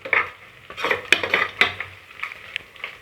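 Onions and green chillies for chicken biryani being stirred as they fry, a spoon scraping and knocking against the pan in quick irregular strokes over a soft sizzle, close up, with no talking.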